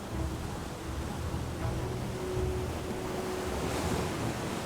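North coast surf at Timbulsloko village in Sayung, Demak, Java, a shoreline hit by abrasion. The waves make a continuous low wash with wind rumble, steady and fairly faint, with no voices.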